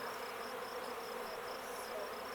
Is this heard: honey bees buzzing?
yes